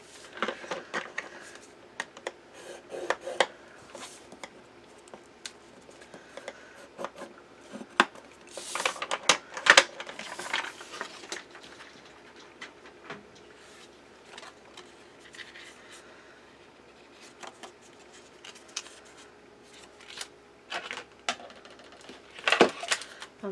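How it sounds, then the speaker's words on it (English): Cardstock is scored on both sides with a tool, giving scattered short scratchy strokes and light taps, close and fairly quiet, in an irregular rhythm with pauses between passes. "we're going to score it on both sides"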